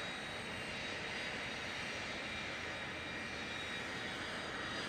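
The right jet engine of an A-10 attack aircraft starts up in a flight simulation game, a steady, even turbine roar and whine that stays constant throughout with no voices.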